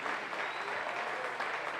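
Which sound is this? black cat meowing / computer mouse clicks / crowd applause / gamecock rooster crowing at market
crowd applause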